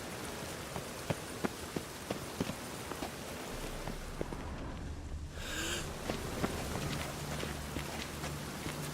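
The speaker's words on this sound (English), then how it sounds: "I like rain." Rain falling in the video game The Witcher 3, a steady close hiss dotted with sharp drip-like ticks throughout, with a low droning hum joining partway through and no speech.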